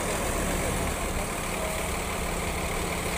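Front-engine Agra Mas Mazda bus idling nearby, a steady low diesel rumble with constant drone and no variation, loud and continuous without talk.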